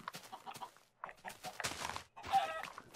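Chickens cluck and squawk in short bursts with brief pauses between them, close and fairly clear.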